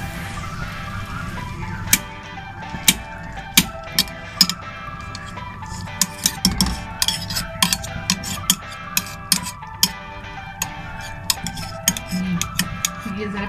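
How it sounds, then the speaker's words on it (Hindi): A spoon mashes boiled potato into a simmering potato and meat curry, with sharp metallic clinks and taps against the pot coming in an irregular rhythm over a faint background bubble. "ये मैं आपके सामने एक आलू काटूँ वो चम्मच से पीसूँगी"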